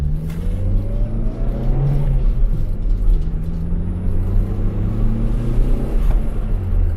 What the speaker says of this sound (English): since we turned the boost up in this car, the car goes a lot better now. There's no lag in the turbo.